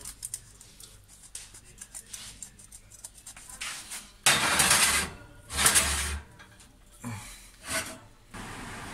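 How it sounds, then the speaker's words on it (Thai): A block of hard parmesan cheese being grated finely, scattered rasping bursts that grow louder in the second half, a few strong strokes separated by pauses, close and unaccompanied by talk. "จะกขูด พาเมซานชีส โรยลงไปหน้าที่พิมิกนะคะ มันแข็งมาก"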